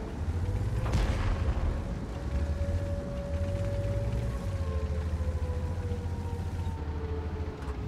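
A heavy boom of tank cannon fire in World of Tanks, a deep blast near the start followed by rumbling engine drone and a later thump, with no talk heard.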